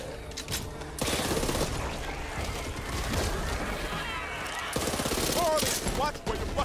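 Rapid bursts of gunfire in the zombie shooter Back 4 Blood, loud overlapping shots and clatter, with voices shouting briefly amid the chaos.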